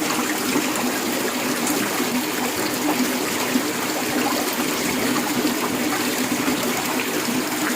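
Water flows steadily along a karez irrigation channel in Balochistan, a continuous close rushing and trickling wash with no talk.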